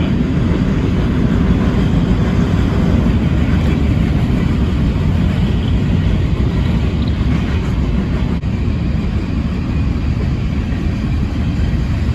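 An empty coal train in western Nebraska rolls past with a loud, steady, low rumble and clatter that continues the whole time, with no voices.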